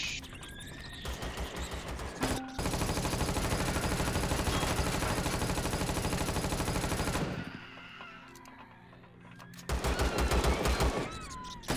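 A turret in the Empyrion space game hammers out a long, steady stream of rapid automatic fire for several seconds, briefly drops away, then resumes loud and dense, with faint scattered game noises in the pause.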